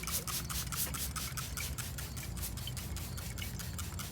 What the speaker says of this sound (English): and now we can begin wet sanding